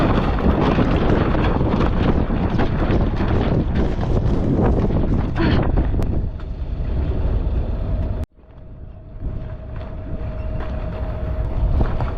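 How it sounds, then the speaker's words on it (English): Loud, constant wind roar buffets the microphone aboard a sailboat under way, a dense rushing blast that eases slightly and briefly cuts out before surging back. "We're in the wind right now"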